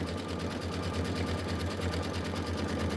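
A sewing machine stitches tack-downs on a Kimberbell Enchanted Winter quilt filler block, giving a steady, rapid mechanical whir and needle chatter that runs continuously and close, with no pauses.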